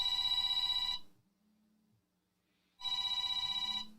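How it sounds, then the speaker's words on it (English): A telephone bell rings loudly in two bursts, about one second each, separated by nearly two seconds of near silence, with no voices over it. "The phone is ringing."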